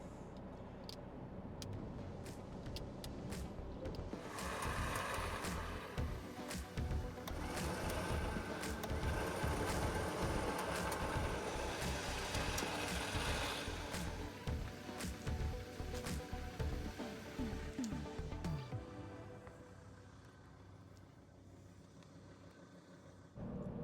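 A winch whirs and grinds steadily as it winds in cable in a double-line vehicle recovery, over the drone of an idling engine, continuing for about twenty seconds before easing off.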